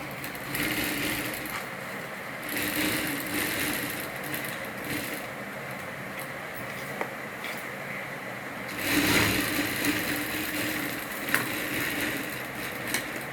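A sewing machine stitches a designer blouse, its steady mechanical whir running almost unbroken and fairly close, swelling slightly louder near the end.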